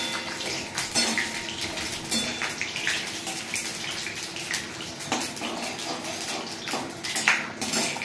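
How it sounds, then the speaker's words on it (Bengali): Oil sizzles loudly in a pan for khichuri tempering, a dense, continuous hiss and crackle with scattered clinks of utensils throughout. "ওইদিকে তেল, ওরে বাবা কত তেলের আওয়াজ হচ্ছে।"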